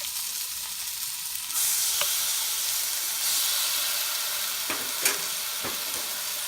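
Garlic hits a hot pan of onions for Kapampangan-style oxtail kare kare, with a steady sizzle that jumps louder partway through. A few light clicks of stirring cut through the continuous hiss.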